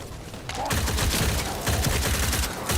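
A sustained burst of rapid gunfire from a ricocheting-bullet gun in The First Descendant, each shot snapping close and loud in a steady, fast rhythm over busy combat noise.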